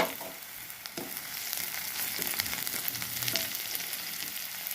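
Nigella seeds drop into half-fried chopped onions in hot oil, making a continuous close crackling sizzle with scattered pops and light stirring.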